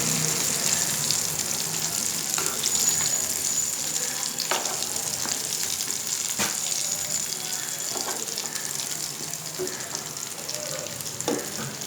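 Potato balls fry in a pan with a steady, close sizzle, broken by occasional clinks and stirring sounds.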